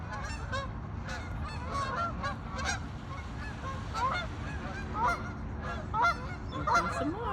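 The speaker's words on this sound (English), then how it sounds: "Where are the geese going?" Many geese honk repeatedly in a lively, overlapping chorus at varied distances over a steady outdoor background, with ducks coming in to land nearby; occasional louder honks stand out near the end.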